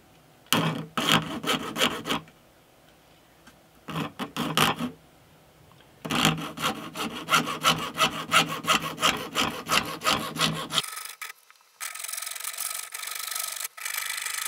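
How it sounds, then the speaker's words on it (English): A junior hacksaw cuts wood on a guitar inlay jig, giving bursts of rapid back-and-forth rasping strokes separated by short pauses, then a long, steady run of strokes. "Or maybe a junior hacksaw will be better."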